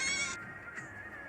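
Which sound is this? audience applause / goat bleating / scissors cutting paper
goat bleating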